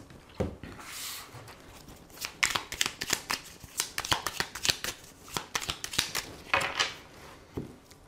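Tarot cards being shuffled and cut by hand, a quick series of crisp riffling flutters and soft slaps in bursts, close and fairly quiet, with no voices.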